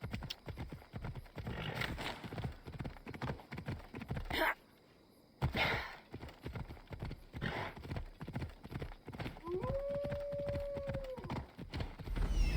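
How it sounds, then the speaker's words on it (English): Hooves clip-clop steadily in a video game with a brief pause partway through, and a horse whinnies near the end. "Looks like a sturdy horse."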